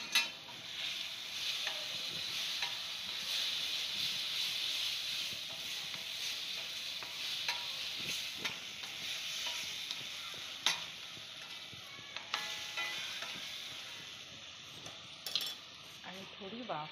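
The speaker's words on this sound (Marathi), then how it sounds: "आणि आता ही सोया चंक्स इथे टाकणार आहे." Soya chunks stirred into frying masala in a pan: continuous soft sizzling with scraping stirs and occasional clinks of a spoon against metal, close and fairly quiet, with no talking.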